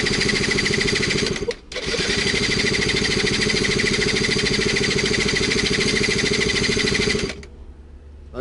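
A small petrol scooter engine runs loud and steady, close by, with a brief dip near the start and cutting out near the end.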